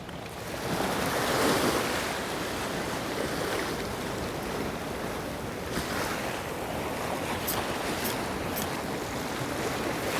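High sea waves surge and wash continuously at a coastal fishing spot used for sea bass and squid near Gapado island, with steady roaring surf and wind buffeting the microphone, no voices.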